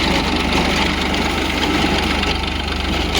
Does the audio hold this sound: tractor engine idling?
yes